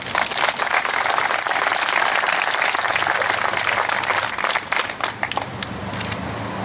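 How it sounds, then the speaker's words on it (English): Dense, loud applause from a campaign rally crowd for a congressional candidate, a continuous roar of clapping that holds steady, then thins slightly toward the end. "So please give me a round of applause with him."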